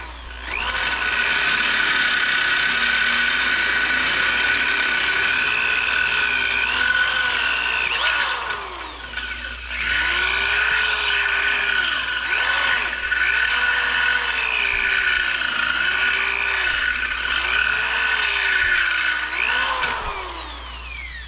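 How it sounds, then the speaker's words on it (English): A corded power drill whines continuously at high speed, its pitch wavering as it bites into a 2021 KTM 300 XC motorcycle's metal rim, with a brief pause midway before resuming. "I've got a corded drill here. I'm going to go ahead and drill the hole through that."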